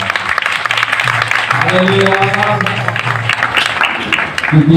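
A church congregation claps steadily, a dense wash of applause running through the whole stretch while a voice speaks loudly over it.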